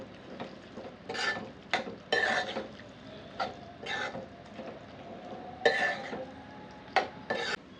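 A spoon stirs spicy nethallu dry fish curry in a pot, making quiet, irregular scraping and swishing strokes in short bursts, with a soft simmering bubble between them.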